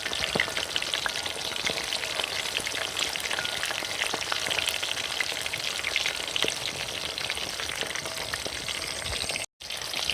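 Quail pieces fry in hot oil in a pan with a steady, dense crackling sizzle that runs continuously close up, with a brief dropout near the end and no talking.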